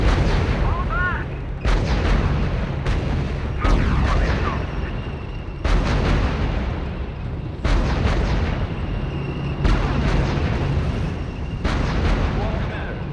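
Artillery booms and explosions roll through a battle in the video game R.U.S.E., a string of heavy blasts every second or two with echoing tails, loud and close, mixed with scattered voices.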